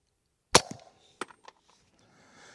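A single sharp gunshot from a rifle with a Q 7-inch barrel cracks loud and close, followed by a few quieter clanks and a fading tail with no talking.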